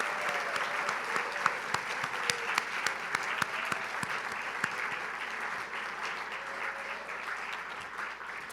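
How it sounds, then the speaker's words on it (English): A large audience at the Foreign Press Awards at the National Press Club in Washington D.C. applauds award winners, with dense sustained clapping, some individual claps standing out sharply, and a faint voice underneath. "Let's give them all a round of applause"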